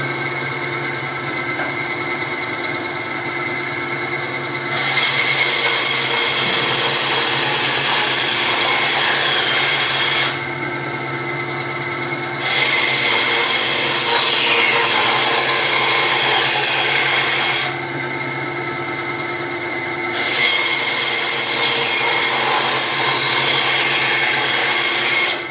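A small power saw with a miter gauge cuts through a piece of 2x4 wood, a steady motor whine rising into louder cutting passes in three separate strokes with brief lulls between.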